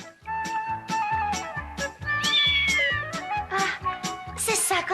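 A kitten meows repeatedly in rising, whiny cries over a steady musical score, with a voice and other sounds mixed in throughout.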